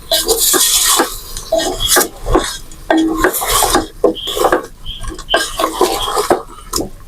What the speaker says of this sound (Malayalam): നല്ലതുപോലെ ഒന്ന് ഇളക്കി യോജിപ്പിച്ചെടുക്കുക